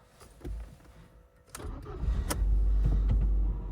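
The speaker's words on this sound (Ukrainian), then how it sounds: "Двигун запускається чудово" A Ford Fusion with a manual gearbox and 192,000 km cranks and starts from cold, a brief starter whir followed by the engine catching into a loud, steady low idle close by.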